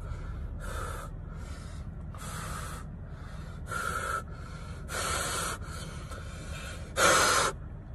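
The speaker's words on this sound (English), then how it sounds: "I have to exhale pretty darn hard in order to actually get air to come out here" A person breathes out hard through a Milwaukee 3-layer face mask in about eight separate breathy, hissing puffs. They are close to the microphone, and the last puff is the loudest.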